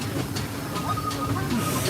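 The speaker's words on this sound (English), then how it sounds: "We just jumped on the Disneyland train from Main Street Station" Disneyland train rolling along the rails from Main Street Station, a steady close rumble with hiss and faint rhythmic clicks, with voices mixed in underneath.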